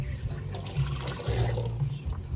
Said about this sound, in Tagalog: Hugasan natin kasi merong mga black siya.